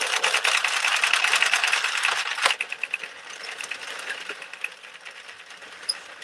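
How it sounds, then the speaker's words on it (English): An Addi sock knitting machine is cranked, giving a loud, rapid, rattling clatter of plastic needles that slows into separate clicks and a few sharper ticks. "The Addy is so loud."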